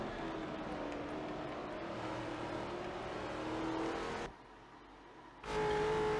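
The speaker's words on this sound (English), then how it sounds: "He lets Send It Media pass." Race cars in a NASCAR racing video game, a steady droning engine roar that drops away briefly near the end before returning louder as cars pass, no talking.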